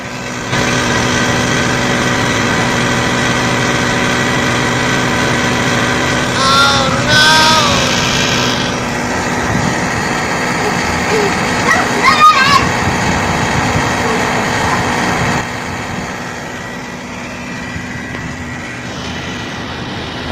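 A Haier inverter air conditioner compressor running abnormally gives a steady, loud droning hum with a layered whine that continues throughout, with a brief voice partway in.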